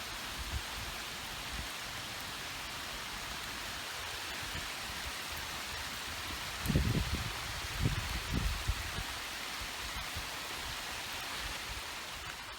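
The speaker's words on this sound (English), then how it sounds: "it's raining hard" Hard rain falls on a river around a kayak, a steady dense hiss of drops with a few heavier low splashes or knocks near the middle, no voices.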